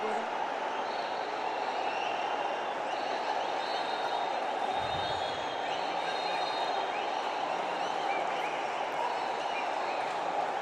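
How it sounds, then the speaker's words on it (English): A football stadium crowd at an AFC Cup match roars continuously, a dense, steady wall of cheering heard from the stands, with no breaks across the whole stretch. "This crowd has gone wild at the moment with 5 minutes to go."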